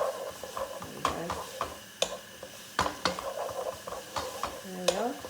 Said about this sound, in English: I don't want the onions to brown, so I don't want them to go too